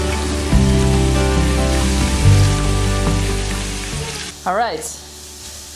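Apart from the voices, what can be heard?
leeks and garlic sizzling in a pan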